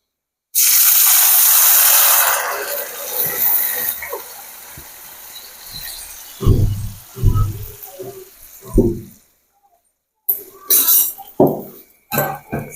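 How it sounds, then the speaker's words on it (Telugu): Two glassfuls of water poured from a glass into a cooking pot for semiya kesari, a loud continuous splash in the first seconds, then clinks and knocks of utensils with brief pauses. "అదే గ్లాస్తో రెండు గ్లాసులు వాటర్ పోసుకుందాం"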